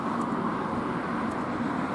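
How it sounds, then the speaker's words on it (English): Steady, loud road traffic from cars passing close by along a street, a continuous roar and hiss with no breaks, heard from the pavement while walking with a hand-held camera. "these cars are absolutely deafening me"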